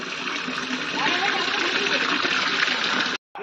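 Steady rushing water during a small child's bath at home, continuous and fairly loud with a faint voice underneath, ending in a sudden cut.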